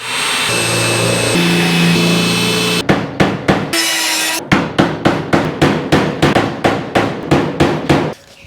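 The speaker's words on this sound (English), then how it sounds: "So let me go through and drill all these out." A power drill whines loudly and steadily, then cuts into a series of rapid, evenly spaced bursts as it drills out corroded fasteners on a 1953 GMC cab, close by.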